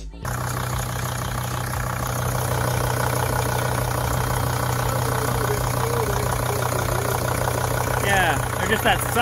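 A Sprinter van engine idling steadily with a constant low droning hum and a faint sucking noise mixed in; a brief rising whine appears near the end.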